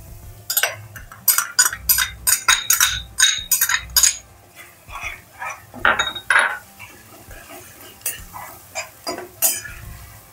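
Roasted onion puree for paneer butter masala is sautéed in a pan, with a metal spoon clinking and scraping against the pan in quick repeated strokes. Softer stirring and faint sizzling follow.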